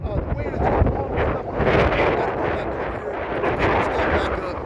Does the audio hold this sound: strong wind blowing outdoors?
yes